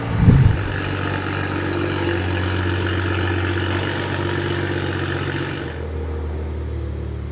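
A BMW B58 engine with a big turbo idles while warming up, a steady low rumble after a brief rev at the start, the hum settling lower near the end.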